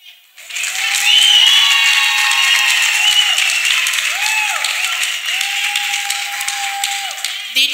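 A church congregation breaks into sustained, dense applause that starts abruptly and stays loud for several seconds before thinning slightly, with a few faint voices underneath.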